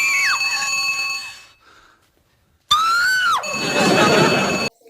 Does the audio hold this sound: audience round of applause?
no